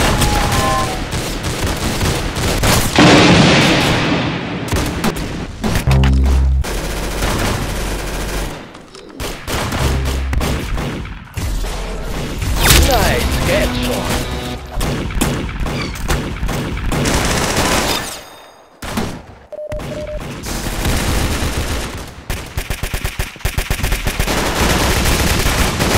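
Gunfire in a shooting video game comes as loud, dense bursts of rapid shots and single reports that run almost continuously, with brief pauses and a few booming hits.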